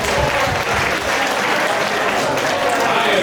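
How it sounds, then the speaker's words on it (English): Wedding guests applauding the newly married couple, a loud, dense, continuous roar of clapping filling the whole stretch. "Everybody give a round of applause for these two here."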